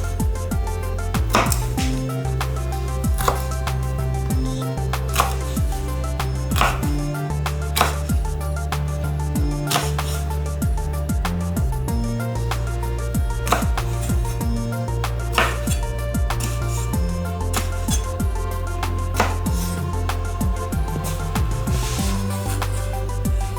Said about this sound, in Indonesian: Potong batang seledri